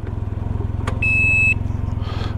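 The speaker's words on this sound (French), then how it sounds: "ça bip comme un camion" Reversing beep of a Can-Am vehicle, a single steady tone lasting about half a second over a loud, rhythmic idling engine rumble.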